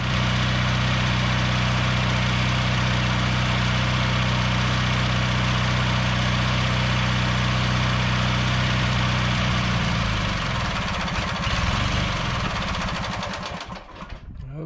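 A small engine, likely an older tractor or mower, runs at steady idle with its fuel shut off so the carburetor drains, a loud continuous drone that sputters, falters and fades toward the end as it starves.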